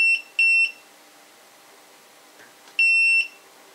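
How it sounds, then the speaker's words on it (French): A multimeter gives two loud, high electronic beeps, each lasting under half a second, separated by a quiet pause with faint background hum, sounding when set to the wrong range. "Il se met à biper fort quand on n'est pas sur le bon range de valeur."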